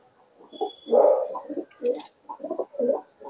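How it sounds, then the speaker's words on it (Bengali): Giribaz pigeon, a closed-tail breed, cooing close up in a series of soft, throaty rolling coos with short pauses between phrases, alone without talk. "একদম বদ্ধ লেজের কবুতর, গিরিবাজ।"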